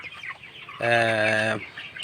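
A 22-day-old broiler chicken in a poultry shed gives one drawn-out, harmonic squawk lasting under a second, loud and close, amid faint background clucking.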